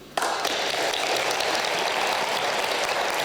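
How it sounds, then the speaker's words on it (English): Steady crowd applause at a literacy celebration at an international school in northern Japan, starting abruptly and then holding as dense, even clapping from a full audience for the rest of the clip. "Round of applause for Hannah."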